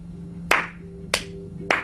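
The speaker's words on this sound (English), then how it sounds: "3 or 4 people's hands clapping" A few people clapping hands after a rock band's loud ending, three sharp isolated claps spaced roughly half a second apart over a low steady hum, sparse and close.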